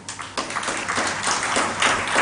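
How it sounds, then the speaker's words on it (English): Summit audience applause after a speech at an annual human rights event, a short dense burst of many hands clapping close and steady throughout, with no talking. "I thought you'd clap more"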